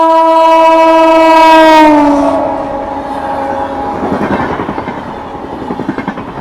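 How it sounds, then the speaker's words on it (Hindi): The Anand Vihar–Ranchi superfast express sounds a long, loud horn as it approaches on the main line, then rushes past with rising rumble and rhythmic wheel clatter on the rails. "मेन लाइन पर आ रही है 12826 भाई साहब, आनंद विहार से रांची सुपर फास्ट एक्सप्रेस"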